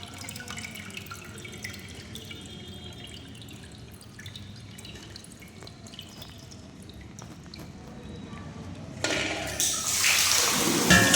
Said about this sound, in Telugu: పైన ట్యాప్ ఉంటుంది. ఇక్కడే అండి నేను నీళ్ళు పట్టేది.